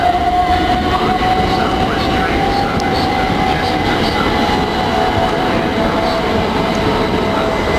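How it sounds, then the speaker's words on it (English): A Gatwick Express train rumbles steadily through a London station, a broad constant roar with a faint tonal whine running throughout. "This train's going to Waterloo."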